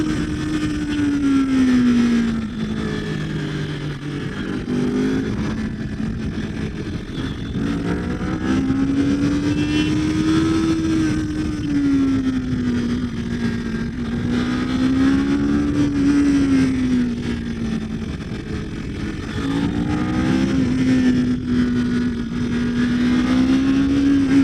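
A 2023 Kawasaki Ninja 400 motorcycle rides through a series of bends, its engine note steady and loud, rising and falling continuously as it moves through the curves, with no talking.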